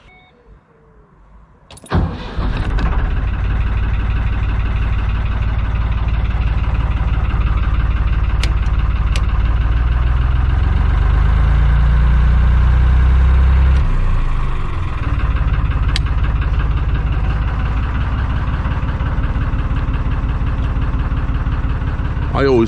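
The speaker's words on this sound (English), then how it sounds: "time to start the engine and make a move" A narrowboat's engine cranks and catches after a brief quiet moment, then settles into a loud, steady low diesel chug that runs continuously, with a deeper throb mid-way and a voice speaking briefly over it.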